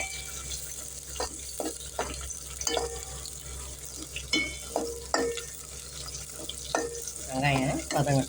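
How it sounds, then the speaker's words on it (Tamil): Sliced big onion, curry leaves and a single green chilli frying in hot oil as a tempering for Tamil fish curry, with a steady soft sizzle broken by repeated clinks and scrapes of a stirring spoon, close up and without talk. "ஒரு வெள்ளாரி வெங்காயம் பெரிய வெங்காயம் அப்புறம் கொஞ்சம் கருவேப்பிலை ஒரே ஒரு பச்சை மிளகாய் தாளிக்க போட்டு"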